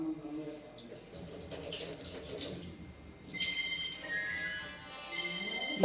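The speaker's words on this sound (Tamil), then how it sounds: "ஒரு ரெண்டு தண்ணி மூணு தண்ணி ஊற்றி அலசிக்கலாம்" Water splashes and sloshes in a bowl as flattened rice is swirled and rinsed, with gentle pouring and dripping sounds close by.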